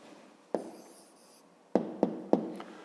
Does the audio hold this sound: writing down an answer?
yes